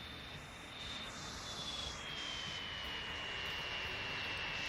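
De Havilland Comet jet airliners in the game Transport Fever 2, a steady loud jet engine roar with a high whine that slowly falls in pitch, continuous and without talk.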